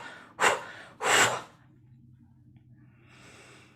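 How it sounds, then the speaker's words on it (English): Two audible breaths drawn in and let out during a guided relaxation, followed by a softer, fainter exhale near the end, each fairly close and alone against a quiet room. "Just breathing in and then breathing out."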